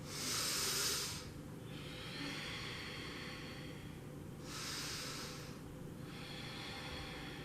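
Slow, steady breathing with the eyes closed in a grounding yoga flow: two soft airy breath cycles, each a hiss that rises and falls, close and quiet over faint room noise.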